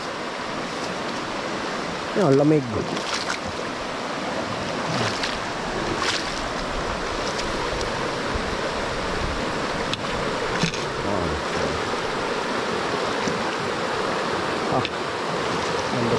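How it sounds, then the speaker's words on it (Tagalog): Stream water rushes steadily on a farm, a constant broad close wash lasting the whole stretch, with a few brief spoken words over it. "Yan, gara ng tubig oh."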